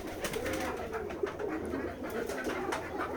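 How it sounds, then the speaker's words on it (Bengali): Pigeons at a pigeon farm coo in overlapping, low, throaty calls, several birds at once, a constant close chorus with no talking. "এটা আমাদের ফার্ম হাউস, কবুতরের খামার"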